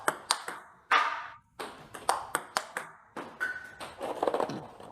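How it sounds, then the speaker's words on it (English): A table tennis ball strikes the table and paddle in a run of sharp, close pings and taps in a quick, fairly regular rally rhythm. "you must hear or see the ball hit the table first, and only then start your swing"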